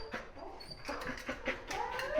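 A five-month-old female puppy at a dog breeder's home whimpers and whines close by in a run of short, high-pitched cries and yips, some rising into longer whines, over faint room noise.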